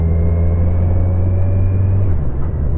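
A Saab car passing near a small campsite, heard as a loud, close, low rumbling drone that holds steady and then fades slightly at the end.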